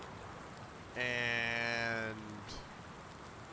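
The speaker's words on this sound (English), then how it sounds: "it's pouring rain out." Heavy rain pours outside as a soft, steady hiss in the background, with a brief spoken word over it.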